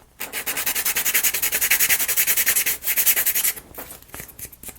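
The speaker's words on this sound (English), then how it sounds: "a little more sanding" Rapid rhythmic rubbing strokes of sandpaper on a small laser-cut wooden part from a UGEARS Tourbillon table clock model kit, close and loud, about twenty quick back-and-forth passes with a brief pause, no talking.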